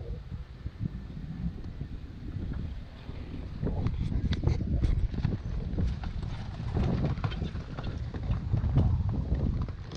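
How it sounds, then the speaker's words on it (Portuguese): A horse walks past during outdoor training for a draft-pulling event, its hooves clip-clopping in a steady rhythm against heavy wind noise, with no clear talk. "Tá passando o cavalo de Atos."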